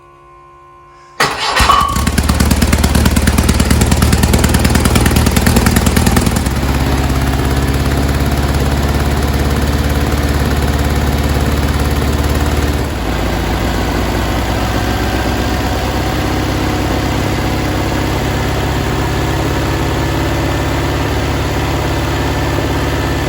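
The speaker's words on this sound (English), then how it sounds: "what I heard here is a bit of a exhaust leak coming from that collector" A Volkswagen 1800 engine on a bench stand cranks and starts, then idles loudly and steadily for the rest of the clip with a slight change in tone midway, with an exhaust leak at the collector.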